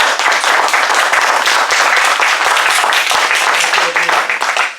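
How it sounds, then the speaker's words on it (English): Warm applause from a club meeting audience for a speaker, dense and steady clapping from many hands filling the room without a break, fairly loud and close, with no voices rising above it. "a warm applause for Mandy with This Is Me"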